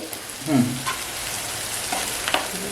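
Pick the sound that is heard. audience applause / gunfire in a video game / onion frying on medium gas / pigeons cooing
onion frying on medium gas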